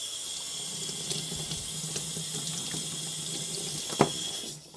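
Running water from a tap splashes steadily over a Shirogami nakiri knife as it is rinsed, a continuous hiss with a few small clinks and one sharp knock near the end before the flow cuts off.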